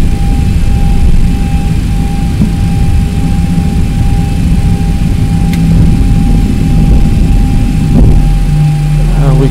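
Boeing 737-800 airliner at JFK airport, a steady loud drone of engines and airport machinery with a faint whine running throughout, people talking briefly over it.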